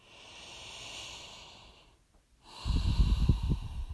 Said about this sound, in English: Take one deep breath.